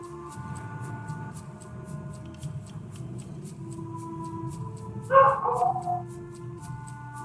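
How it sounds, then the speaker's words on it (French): In the video game Return to Monkey Island, a dog gives one short burst of barking near the end, loud and close over looping game music. "C'est le chien, rien de grave, ne vous inquiétez pas."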